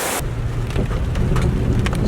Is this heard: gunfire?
no